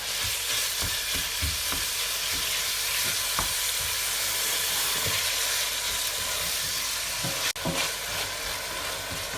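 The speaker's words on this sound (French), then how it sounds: "On fait prendre une belle couleur à la viande." Ground meat fries in a pan with carrots and onions, a continuous close sizzle broken by repeated stirring scrapes and taps, with one sharp knock near the end and no speech.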